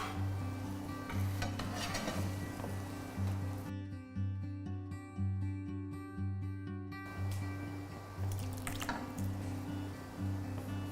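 Gulab jamun frying in hot oil in a kadhai, a faint sizzle with soft stirring and scraping of a utensil against the pan, under a steady low hum, no talking.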